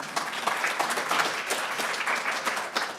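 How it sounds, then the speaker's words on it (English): An audience claps and applauds together at a luncheon, dense and sustained for a few seconds, with no talking. "Give them a round of applause, please."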